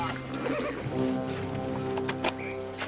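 A horse gives a loud, close neigh with a wavering whinny over a few seconds, with faint hoof clip-clop and brief talk in the background.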